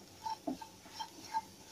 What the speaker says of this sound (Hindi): इसको अच्छे से मिला लेंगे एक बार